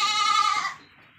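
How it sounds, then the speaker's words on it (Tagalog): On a farm beside a breeder goat house, goats waiting for grass give one loud, nearby bleat that fades out after about a second. "So tingnan mo yung mga kambing, naghihintay na sa damo"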